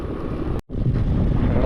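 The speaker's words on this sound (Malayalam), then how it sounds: "പക്ഷെ ഒരു നല്ല കാറ്റടിക്കുന്നുണ്ട് മുഖത്തേക്ക്." Cold wind roars steadily into a helmet microphone on a rider's mountain road, loud and close, with a brief dropout partway through.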